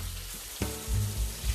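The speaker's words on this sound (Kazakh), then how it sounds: "Қызартып, әдемілеп асықпай қуырсақ, балығымыз дәмді болады" Carp fish frying in a pan of oil, a close, dense sizzle with a brief crackling burst midway and low bubbling underneath, steady throughout and free of talk.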